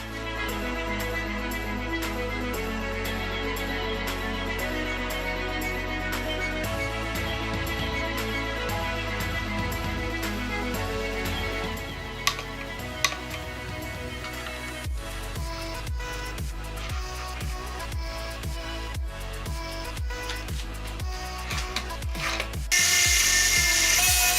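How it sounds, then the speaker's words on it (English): Power tool cutting down bolts on a homemade Iron Man rocket launcher build, a steady loud whine running continuously with harsher bursts of grinding toward the end. "Alright, now I gotta trim these bolts so that it'll move."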